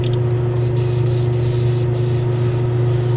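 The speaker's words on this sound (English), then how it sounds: "notice a little bit of sputtering with my airbrush" Continuous hiss of an airbrush spraying skin-tone paint on a resin anime figure, steady and close, with a low mechanical hum underneath and slight sputtering flickers.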